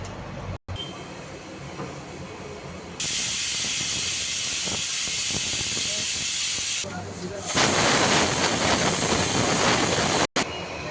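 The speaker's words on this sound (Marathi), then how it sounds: "आपण त्याला आता झाकण लावूया आणि 2 ते 3 शिट्ट्या काढायच्या" A pressure cooker of sweetcorn vegetable pulao hisses, first with a steady release of steam, then with a louder, sustained whistle-like jet of steam, close and strong.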